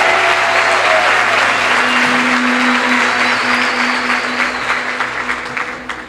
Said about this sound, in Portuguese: Agora pode aplaudir, pode dar um brado de vitória.